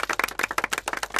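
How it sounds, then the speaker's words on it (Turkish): A small group claps in quick, uneven rhythm in a tavern setting, the claps close, crisp and continuous for the whole moment. "Alkışlayın, alkışlayın."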